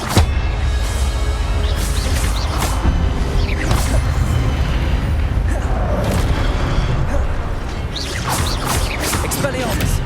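Expelliarmus spell blasts cast in Hogwarts Legacy, loud booming impacts and whooshes over a busy game soundscape, with a voice shouting the spell.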